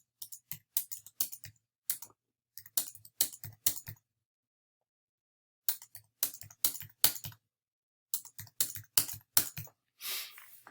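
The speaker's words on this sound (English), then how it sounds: "I press a number and then hit tab to move over." Numbers and the tab key being pressed on a computer keyboard while entering a matrix in Maple, crisp close key clicks in quick bursts of several strokes separated by silent pauses, with no voices.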